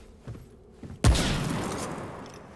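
A single loud rifle shot from the video game Remnant: From the Ashes cracks suddenly, followed by a rolling, decaying boom, after a few faint thuds beforehand.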